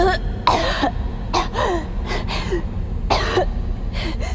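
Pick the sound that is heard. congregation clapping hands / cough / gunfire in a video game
cough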